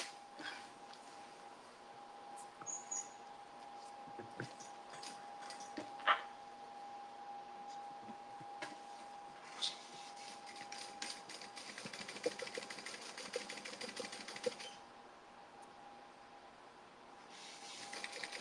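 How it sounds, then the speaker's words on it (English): Sewing machine stitching a straight line across the top flap of a summer tote bag, a faint steady whir with light rapid ticking that runs continuously for a long stretch before stopping. "I'm going to sew across that line"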